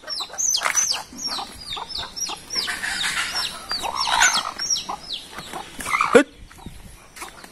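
Village chickens and their chicks cluck and peep in a busy, overlapping chorus of short, bright calls, close by and fairly loud, with no talking.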